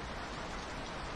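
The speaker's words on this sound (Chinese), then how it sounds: "突然间下这么大的雨，把我给浇死了。" Heavy rain pours down in a dense, unbroken hiss of drops striking surfaces, loud and steady for the whole moment with no voices.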